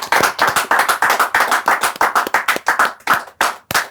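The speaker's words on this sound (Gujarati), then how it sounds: "એક વખત જોરદાર તાળીઓ" An audience gives loud, close applause with crisp, distinct claps in a quick, uneven rhythm that thins slightly toward the end.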